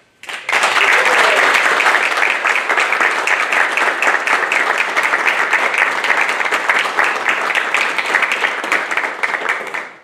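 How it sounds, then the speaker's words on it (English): A large crowd at a Navy nuclear field school graduation ceremony applauds, loud, dense and sustained clapping that starts abruptly and continues steadily for about ten seconds, with no speech over it. "please join me in a round of applause for the Navy's newest third-class petty"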